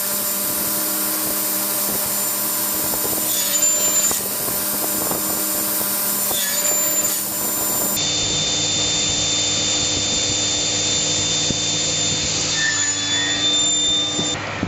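A machine is cutting a frame joint in beech wood, and a steady, loud grinding and whirring carries through the clip. A brief shift near the middle changes the tone, and squealing tones come and go with no talk.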